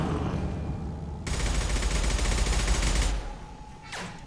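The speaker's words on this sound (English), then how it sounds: "There's bullets whizzing around my head." Sustained gunfire in Mass Effect 2 erupts after a quiet start, a dense rattling volley with bullets whizzing close by for about two seconds, then it cuts off and a brief swoosh follows near the end.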